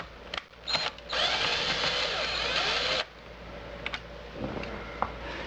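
A power tool drives out a screw from the wood trim of a Jaguar XK8, giving a close, loud two-second whir. Brief clicks and scrapes of handling come before and after it.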